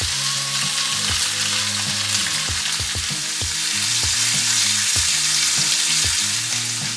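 A large steak sears in a slightly too-small pan with a loud, constant sizzle, punctuated by sharp spatters and popping crackles, heard close with no talking.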